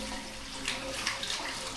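Water runs steadily from the spout of St Anne's Well in the Malvern Hills, a constant close splashing trickle with no voices.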